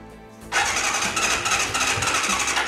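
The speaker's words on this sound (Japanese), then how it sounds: "セルはちゃんと回ります" A Kawasaki ZZR400 motorcycle's starter motor cranking a cold engine, which doesn't fire: a sudden loud whirring churn kicks in and keeps going steadily and close.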